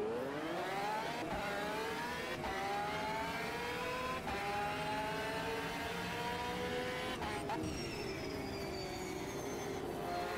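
A Maserati GT1 race car engine in the AMS2 racing game screams continuously through ten seconds, rising through the revs with several sharp gear-change breaks, loud and alone.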